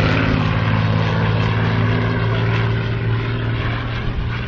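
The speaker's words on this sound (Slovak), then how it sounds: "1700 konských síl nad našimi hlavami v premiére na letisku v Slávnici. Lietadlo Spitfire." A Supermarine Spitfire with a 1700-horsepower piston engine flies overhead at an airfield air show, giving a steady, loud, rough propeller drone that holds the whole time.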